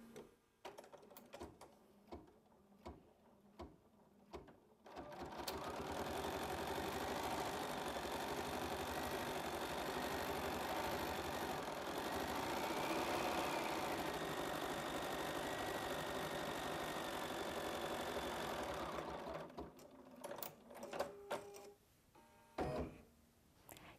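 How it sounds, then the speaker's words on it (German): A Bernina B 700 embroidery machine stitching on its free arm, a steady fast mechanical whirring and rattling hum that starts after a few quiet clicks, runs evenly for about fifteen seconds and then stops, followed by more handling clicks. "jetzt starte ich den Stickvorgang"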